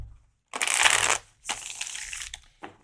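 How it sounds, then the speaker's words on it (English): A worn Lightseer's Tarot card deck shuffled by hand, two loud riffling bursts followed by a short third flick, close and crisp with brief pauses between, no voices. "It's actually getting worn in to where it's got a pretty good shuffle right now."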